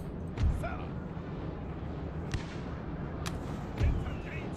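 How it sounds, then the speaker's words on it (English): Fusiliers firing muskets in the Napoleonic battle game Napoleon Total War, with a few faint distant booming shots spaced seconds apart over a low battlefield rumble. "Fusiliers are firing."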